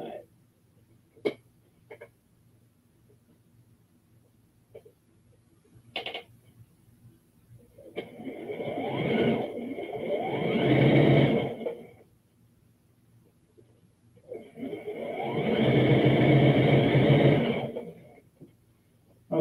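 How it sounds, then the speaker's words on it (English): Sewing machine stitching a seam on a kimono duster, two bursts of rapid mechanical whirring a few seconds each, separated by quiet pauses with small clicks and handling noises. "I'm going to start just on the other side of this pin and sew this up."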